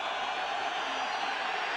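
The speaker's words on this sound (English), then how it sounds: "Loud crowd breathing down Andy Dalton's back." A loud football stadium crowd roars in a steady wash of noise as the home fans press a quarterback under pressure, a brief sustained din with a commentator's voice faintly under it.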